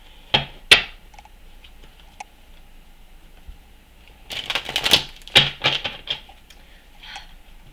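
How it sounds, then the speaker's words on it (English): Tarot cards are reshuffled by hand, producing sharp clicking snaps: a pair of quick flicks, a pause, then a busier burst of riffling taps, close and crisp in a quiet room. "I'm going to reshuffle."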